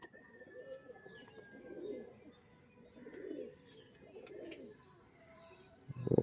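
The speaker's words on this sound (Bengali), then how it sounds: "সুন্দর পায়রা" Pigeons cooing softly nearby, four low cooing phrases spaced evenly, with a louder coo at the end over a faint background.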